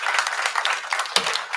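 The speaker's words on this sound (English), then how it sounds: "Let's give him a round of applause for being here." A round of applause at a Southern University System board of supervisors meeting greets the national president of the alumni association, a room of many hands clapping in a dense, steady patter, fairly loud and close.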